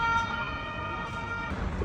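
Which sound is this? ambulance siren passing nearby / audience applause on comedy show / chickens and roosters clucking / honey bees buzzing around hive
ambulance siren passing nearby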